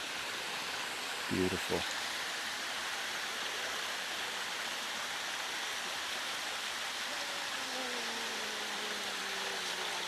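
A hidden waterfall near Puerto Vallarta roars as a steady broadband rush of falling water, continuous and fairly close, with a voice speaking briefly over it.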